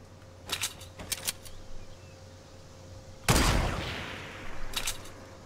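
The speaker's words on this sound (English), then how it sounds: "I don't know where they're shooting from" Gunfire during a Fortnite Battle Royale match: short clusters of distant rapid shots, then one loud nearby blast with a long decaying tail, followed by another far-off burst, with no talk.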